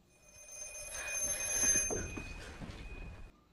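A telephone rings in a narrated horror story, a steady electronic ringing tone that swells and fades over a few seconds, heard alone without talk.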